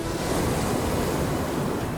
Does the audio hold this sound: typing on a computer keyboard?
no